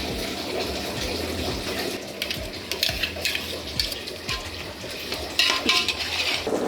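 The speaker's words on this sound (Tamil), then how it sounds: "தண்ணி பிடிச்சிக்கிறேன்." Water runs from a tap in a home kitchen to fill a vessel, a steady splashing stream mixed with intermittent clinks and knocks of pots and utensils nearby.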